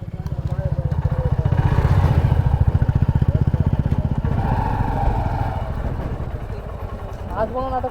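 A motorcycle engine runs loud and close with a rapid pulsing throb that rises then eases off, while people talk over it.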